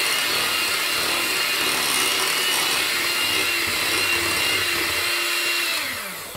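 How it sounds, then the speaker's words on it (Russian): An electric hand mixer whirs loudly and steadily as it beats brownie batter, a constant close-up motor drone that slows and winds down in the last moments. "Готово, когда миксер начинает писать узоры."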